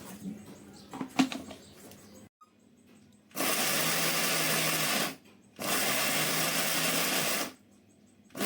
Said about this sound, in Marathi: काजू आणि हा कांदा ना मिक्सरला त्याची पेस्ट करून